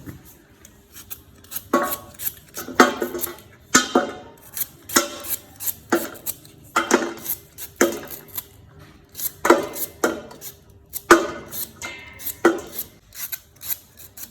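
A knife chops through washed arrowroot roots in a series of close, crisp cutting strokes, roughly one every second with short pauses, each cut a rasping scrape against the board.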